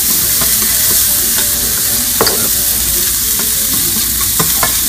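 Kale sautés with smoked bacon and chopped shallot in a hot pan, sizzling loudly and steadily up close, with occasional stirring scrapes and taps cutting through the constant frying hiss.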